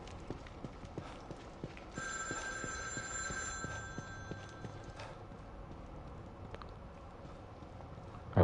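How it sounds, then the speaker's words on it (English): A telephone ringing in the survival horror game The Evil Within 2, a thin electronic trill lasting a few seconds over steady rhythmic footstep-like thuds of a character walking, with no voices. "I always answer that phone."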